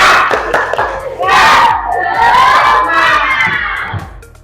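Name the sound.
pupils doing the "tepuk semangat" clapping chant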